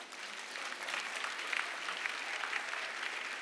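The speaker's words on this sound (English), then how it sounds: "go ahead and clap" Continuous audience applause at a wealth summit, a dense, even wash of many hands clapping at moderate distance throughout.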